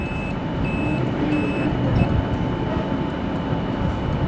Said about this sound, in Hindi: ये बीप साउंड कर रहा है,